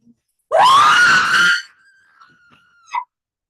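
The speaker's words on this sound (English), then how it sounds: "The next scream feels hot and right up on you." A loud, harsh scream with a strained rasp fills about a second in a staged play reading, then gives way to a thin whistling tone and a brief second cry at the end.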